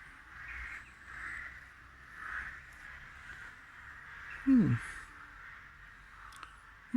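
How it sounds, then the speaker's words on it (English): A large flock of crows cawing far off in a steady, overlapping chorus that rises and falls, with a couple of louder close knocks breaking through. "there's a huge bunch of crows up there. It's not really roosting time yet"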